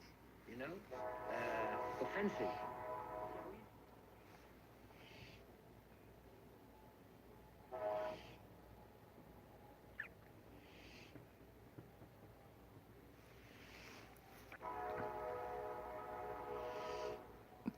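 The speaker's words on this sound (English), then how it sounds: "Oh, there's a train going by." A distant train passes with a sustained horn-like tone rising at intervals, faint under brief spoken words and quiet background.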